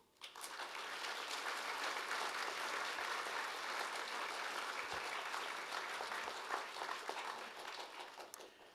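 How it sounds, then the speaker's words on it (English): A large crowd applauds steadily for several seconds at a university graduation ceremony, dense clapping at moderate distance with no talking over it. "Let's acknowledge them now with a round of applause"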